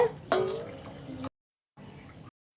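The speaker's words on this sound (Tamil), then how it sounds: "ரசம் கரைச்சி வச்ச பாத்திரத்துலேயே தண்ணி ஊற்றிருக்கேங்க." Water poured into a pot of dissolved tomato rasam mixture in a home kitchen, a short splashing pour followed by a brief pause and a second quieter pour, close and alone.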